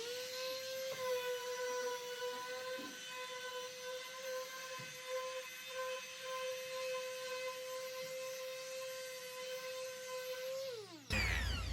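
An electric hand sander used on synthetic enamel putty over a metal surface runs with a steady, fairly quiet high whine and layered overtones, then spins down abruptly at the end.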